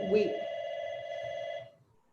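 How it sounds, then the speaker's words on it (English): A phone rings with a bright electronic tone held for about a second and a half before cutting off, heard indoors at moderate volume with a short vocal sound at its start. "I do not know how to turn my phone down."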